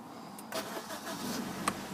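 Silver BMW 116i SE petrol hatchback with manual gearbox fires up by push-button start, a brief starter crank blending into a steady low idle close by.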